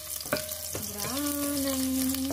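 Garlic sautéing in a hot pan for adobo, a close steady sizzle with a couple of quick scrapes and a sustained tonal whine running underneath.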